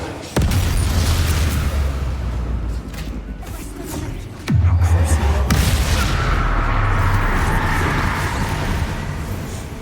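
Confringo spell explosions in Hogwarts Legacy, booming blasts that hit hard near the start and again midway, followed by rumbling crackle under constant battle noise and speech.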